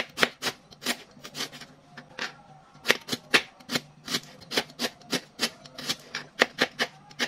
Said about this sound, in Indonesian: Kemudian untuk bawang merahnya kita iris-iris aja seperti ini sampai selesai.